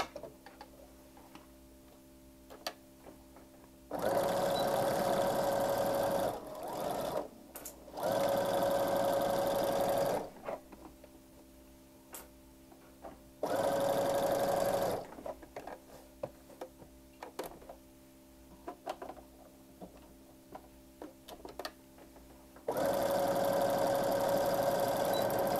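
A sewing machine stitches a dish towel topper in several loud, steady bursts with backstitching, separated by quieter pauses filled with faint clicks and handling noise.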